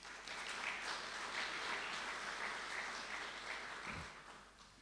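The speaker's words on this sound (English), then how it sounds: "please applaud to your generosity" An audience applauds at a university president's report, with sustained, dense clapping from a large crowd heard at a moderate distance that fades toward the end, with no talk over it.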